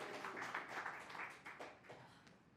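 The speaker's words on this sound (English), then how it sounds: "Final round, let's give them a round of applause." An audience claps at a round of a group movement game, giving soft, steady applause that fades slightly toward the end.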